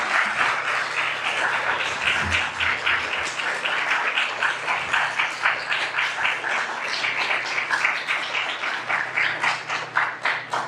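An audience applauds continuously, a dense, even wash of many hands clapping that holds steady throughout without any talking.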